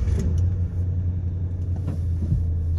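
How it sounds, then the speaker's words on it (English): A 1997 Ford F-250 XLT 4x4 pickup with a 7.5-liter 460 V8 runs quietly, a steady deep engine rumble heard up close and alone. "Starts up and runs nice and quietly."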